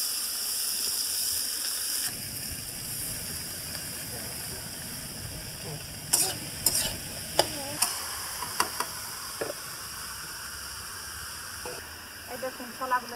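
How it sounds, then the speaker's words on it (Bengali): Ash gourd dropped into a wok of hot oil over a gas flame sets off a continuous sizzle, joined midway by sharp scraping and clattering strokes of a spatula, with a voice talking at times. "হ্যাঁ, এক কড়াইতে চাল কুমড়া দিচ্ছি"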